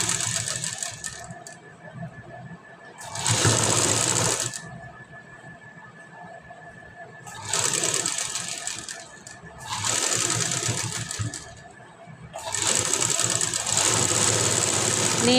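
Sewing machine stitching a blouse, its close, rapid mechanical chatter running in four bursts separated by quieter pauses where the fabric is repositioned.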